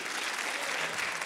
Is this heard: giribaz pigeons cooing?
no